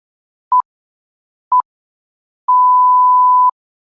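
Electronic telephone tones: two short beeps about a second apart, then one steady tone lasting about a second, clean and loud against silence.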